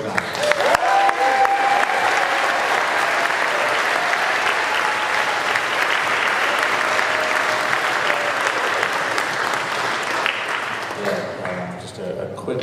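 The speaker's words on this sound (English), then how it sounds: "Last round of applause, a special round of applause for Anise Mojnar." An audience at a jazz concert gives sustained applause, dense and loud, that keeps going for about ten seconds before fading, with a voice speaking over the final moments.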